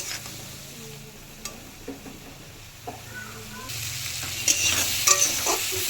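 Spice paste with a splash of water is sautéed in oil, a low sizzle under irregular scraping strokes of a spatula, and the frying grows louder and brighter toward the end.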